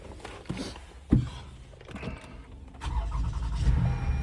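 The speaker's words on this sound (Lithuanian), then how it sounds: "Užsiveda gražiai, variklis dirba gražiai" A few clicks and a brief crank, then a car engine catches and settles into a low, steady idle.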